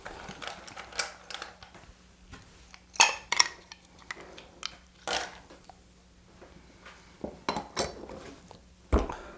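A cocktail shaker rattles while a Casino cocktail is shaken, giving a close run of irregular metallic clinks and ice knocks that come in bursts with brief pauses.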